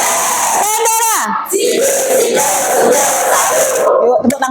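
Classroom of students shouting their class yell in unison, a loud close burst of young voices rising in pitch, then a sustained group chant with rhythmic accents before ending abruptly.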